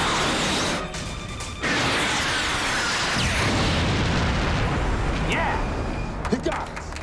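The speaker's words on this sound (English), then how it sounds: "Missile launch." Missile launch and explosion from a sci-fi disaster film, a loud sustained rushing roar with bursts and crashes, continuing for several seconds, with voices briefly heard amid the blast.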